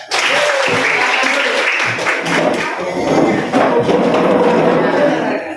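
An Indonesian school class claps a rhythm pattern together, a loud, dense wash of many hands filling the room close by, with clapping steady throughout.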